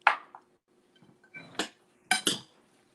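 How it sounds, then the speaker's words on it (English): Olive oil, kosher salt and lemon zest stirred in a bowl with a utensil, giving a few distinct clinks and scrapes against the bowl, separated by short quiet gaps. "And we'll stir."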